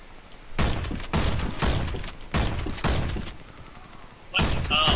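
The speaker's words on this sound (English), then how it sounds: "I'm loving this pump action shotgun that I have." Pump-action shotgun fire in the Warface video game, with the Sidewinder Venom among the weapons, comes as loud broadband blasts in several bursts, one after another, with short gaps between them.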